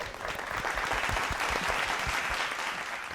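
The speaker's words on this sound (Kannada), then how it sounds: "ಇವತ್ತು ಕಾವ್ಯಾಗ ನಾನು ಚಪ್ಪಾಳೆ ಹೊಡಿಲೇಬೇಕು" An audience on a televised singing show breaks into a dense, steady round of applause for a singer, loud and close, with no voices over it.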